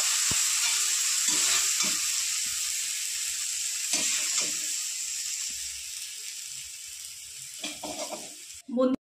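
Coriander leaves sizzle and hiss in a frying pan, a steady bright crackle that continues throughout with a few soft stirring knocks and a sharp scrape near the end.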